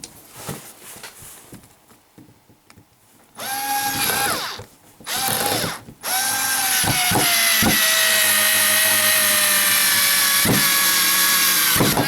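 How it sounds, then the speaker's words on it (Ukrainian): A Bosch GO cordless screwdriver drives a large bolt. There are two short whirring bursts, then a long sustained high-pitched motor whine with ratcheting clicks near the end, all loud and close, following quiet handling noises. "Ви бачили, ця викрутка закрутила Досить серйозний болт."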